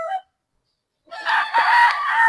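A gamefowl rooster crows nearby in one loud, sustained call after a brief cluck and a short pause, with no other sound around it.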